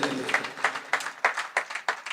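A church congregation clapping in praise of God: a brisk, even rhythm of about seven sharp claps from many hands, fairly close and regular, with no talk over it.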